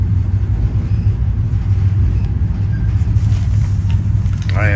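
Inside a sleeping car aboard VIA Rail train number 1, the Canadian, moving west of Blue River, British Columbia: a steady loud low rumble of the rolling train with faint rattles throughout, and a brief voice near the end.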